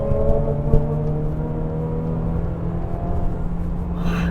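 A Mercedes-Benz GLA facelift accelerating while cornering, a steady engine drone and whir heard from inside the cabin, rising slightly with throttle and carrying on without break.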